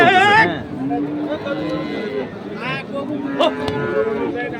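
Cattle low loudly at a busy livestock market, one long close moo followed by further drawn-out calls, with people talking and a general crowd murmur behind.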